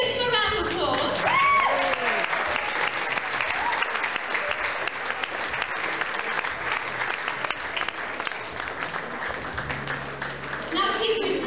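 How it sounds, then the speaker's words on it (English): A live audience breaks into sustained applause with cheering, a dense, loud wash of clapping that holds steady for about eleven seconds, with a few voices calling out near the start and end. "Let's give them a round of applause."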